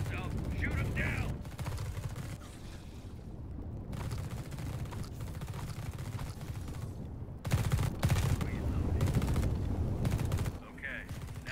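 Gunfire in the squad tactics game The Red Solstice, dense bursts of automatic fire and impacts that swell louder midway, with shouted commands over the combat.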